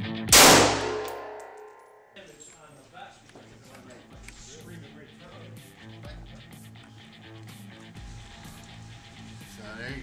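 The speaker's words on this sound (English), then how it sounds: "we're gonna shoot it with .223 armor piercing rounds and we're gonna see how it does" An AR-15 firing .223 armor piercing rounds into a BulletSafe ballistic plate gives one loud, sharp report near the start, followed by a long stretch of lower clattering and metallic handling noise with faint talk underneath.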